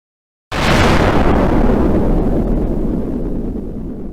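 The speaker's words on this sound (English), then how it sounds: "A cataclysmic explosion rips through the air as Mount St. Helens wakes up" The volcanic eruption of Mount St. Helens in southwestern Washington begins with a sudden, massive blast, then a long, loud, broadband roar that slowly fades, with no voices.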